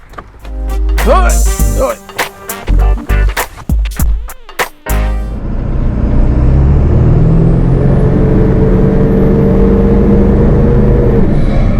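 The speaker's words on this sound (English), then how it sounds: "And now driving the Ford Excursion." A 2000–2005 Ford Excursion SUV pulls away and drives, a loud close engine drone with rising revs under road noise after a stretch of clunks and mechanical knocks.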